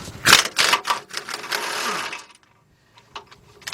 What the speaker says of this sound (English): So I'm gonna get my 1/2" drive gun, and what I'm gonna do is take this one out first